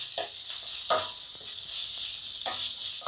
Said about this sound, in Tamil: தக்காளி நல்லா கரையிற வரைக்கும் வதக்கி விடுங்க